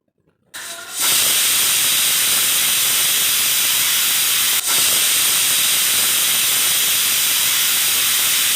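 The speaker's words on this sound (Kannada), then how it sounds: "3 ವಿಸಿಲ್ ಹೊಡ್ಸೋಕ್ಕೆ ಬಿಡಬೇಕು." A pressure cooker cooking tomato bath lets out a loud, continuous steam hiss that starts suddenly about a second in. It dips for an instant near the middle, then carries on to the end with no talking.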